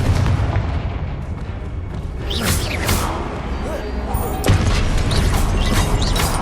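Confringo spell blasts from the wizarding game Hogwarts Legacy: several sharp explosive bursts burst out over a constant din of battle noise, with voices mixed in.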